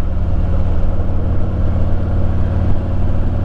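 A Harley-Davidson motorcycle exhaust runs at a steady, loud, throbbing idle close by, its low pulsing drone continuous throughout with no speech.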